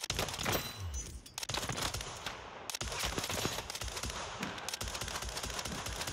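A RAAL LMG in Warzone, Modern Warfare III, fires in single-shot mode, producing loud, dense, rapid gunfire reports that run almost continuously, with one brief break.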